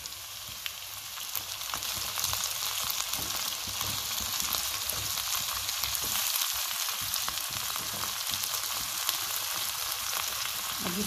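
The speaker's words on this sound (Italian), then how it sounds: "appassire la cipolla per un minuto. Dopo un minuto aggiungiamo i pomodorini" Onion and cherry tomatoes fry over high heat in a pan, a constant loud hiss of sizzling oil with small crackles throughout, close and without voices.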